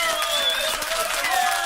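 Audience applause and cheering at a live comedy and music performance, a steady, loud wash of clapping from a crowd, with a few whistles rising above it.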